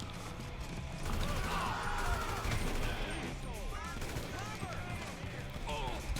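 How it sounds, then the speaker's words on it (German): Gunfire in GTA 5 as several shooters hit the player, with a rattle of repeated shots and mechanical clatter running throughout at steady loudness over a busy game soundtrack. "weil ich kassiere da recht viele Schüsse"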